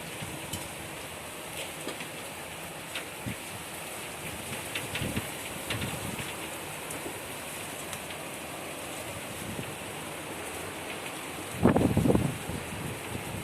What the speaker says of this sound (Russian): вы только посмотрите, какой ливняк пошел. И сопровождается это все сильным ветром.